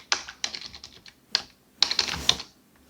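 Bursts of fast typing on a computer keyboard, with clustered key clicks close by, short pauses between runs and a closing flurry of keystrokes.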